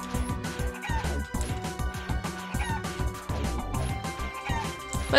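Chickens cluck repeatedly in a video game, their squawks layered over loud, continuous game music with a busy, rhythmic backdrop and no voices.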